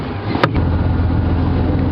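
A safari vehicle's engine idling in a steady low hum, with a brief sharp knock near the start and no voices.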